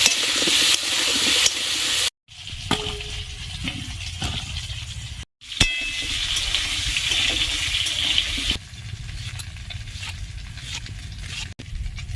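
Potato pieces fry in hot oil with a steady hissing sizzle, broken by a few short pauses and occasional clinks of a utensil stirring the pan.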